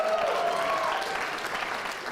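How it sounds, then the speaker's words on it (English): An audience at a live book launch applauds a wind band, with a steady, dense burst of clapping that carries for about two seconds. "Let's cheer them loud enough that they can hear out there."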